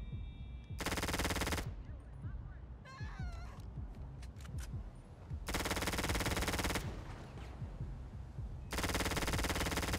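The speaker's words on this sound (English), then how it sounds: "I can't see what I'm shooting at, but let's hope we get something." Automatic gunfire in Grand Theft Auto V comes in long, loud, rapid bursts from close by, with fainter game sounds and chatter in the gaps between them.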